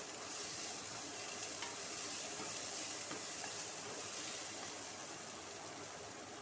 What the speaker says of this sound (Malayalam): തക്കാളി ചേർത്ത് നന്നായിട്ട് വഴറ്റുക